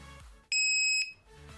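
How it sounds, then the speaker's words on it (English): A laser projection keyboard with a plastic body gives a single loud, piercing electronic beep on power-up, a steady high tone lasting about half a second in a quiet room. "That was a loud beep"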